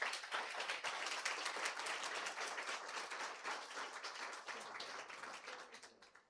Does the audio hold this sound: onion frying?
no